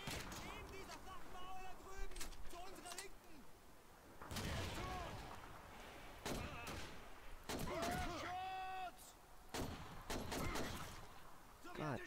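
Gunfire in the World War II shooter Call of Duty 2 comes as sharp, separate shots and short bursts spread through a city battle, with someone talking between them.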